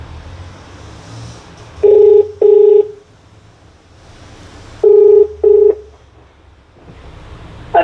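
Four paired bursts of telephone keypad tones: two beeps, a pause, then two more, each loud and clean over a low background hum.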